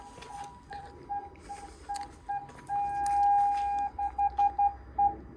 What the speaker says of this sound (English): Just gonna put the ignition on, and you can hear the sensor.